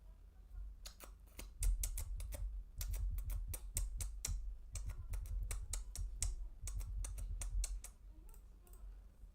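Rapid bursts of typing on a computer keyboard, close and clear, with quick clattering keystrokes in uneven runs and brief pauses between them; no one speaks.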